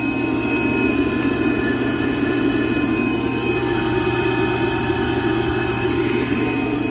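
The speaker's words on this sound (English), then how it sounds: "These are all run by a half horsepower blower." A half horsepower air blower feeding air lines for fish vats runs with a steady, continuous low hum and whir, unchanging throughout, with no voices.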